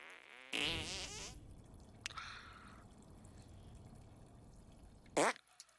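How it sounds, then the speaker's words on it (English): Cartoon fart noises in the South Park: The Stick of Truth video game, a long wobbling fart near the start, a quick tick, then a short sharp squeaky burst near the end, over quiet background, with no voices. "Sounded like a chipmunk. A chipmunk farts."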